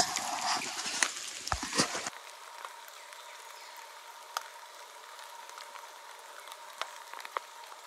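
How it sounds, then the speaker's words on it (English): Light drizzle falling outdoors in a hillside gully on public hunting land, a faint scattered patter of drops on foliage and ground, with a louder rustling burst at the start before settling into quiet, sparse ticking. "Still drizzling."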